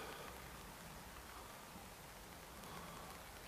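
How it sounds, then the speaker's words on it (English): Rain falls steadily near Auschwitz-Birkenau, a faint, even hiss of drops on surfaces with no voices over it. "It's hard filming because it's raining."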